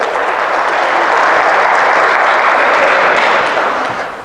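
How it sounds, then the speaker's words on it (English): Sustained audience applause fills a live show, a dense wash of clapping that holds steady and fades slightly at the end, with no talk over it. "Give him a round of applause."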